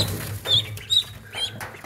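Blue Swedish ducklings peeping in high, thin bursts, three short calls spaced across a couple of seconds, close by over a soft background rustle.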